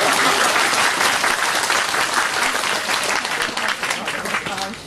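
Crowd at a Taiwan Civil Government year-end party claps in a loud, dense burst that stays strong for nearly five seconds and eases slightly toward the end.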